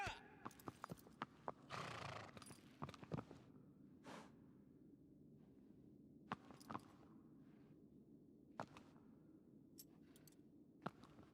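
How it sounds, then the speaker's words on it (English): Rhythmic clip-clop of a horse's hooves as a rider gallops in Shadow of the Colossus, steady thuds with an occasional whinny and whooshing movement over a low game backdrop, no voices. "So I can just straight up jump onto the horse."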